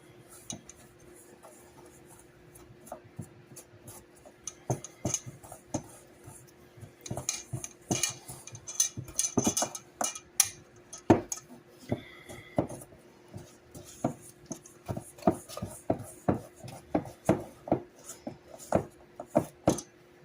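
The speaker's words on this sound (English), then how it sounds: "I'm going to stir this all up." Chocolate cobbler mixture stirred in a bake dish with a utensil, giving a steady run of clinking, scraping taps against the dish that grow busier and louder midway, with no talking.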